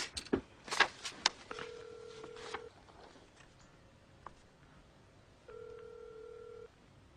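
A telephone being dialed to call a car company: a quick burst of button clicks and handling, then tones and a long dial tone, a brief tick and another tone, quiet and close with no talk.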